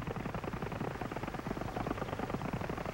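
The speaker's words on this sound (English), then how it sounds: "this real-looking helicopter takes off from its specially designed flat car deck" A Lionel model railroad toy helicopter takes off from a flat car deck, its rotor whirring in a fast, steady buzzing flutter, loud and close, continuing without a break.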